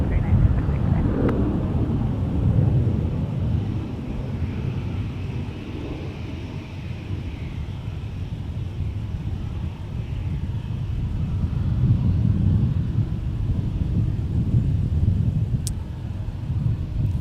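A Sun Country airliner at MSP airport produces a steady, deep jet roar that rolls on for the whole stretch, swelling slightly at times, heard from a distance outdoors.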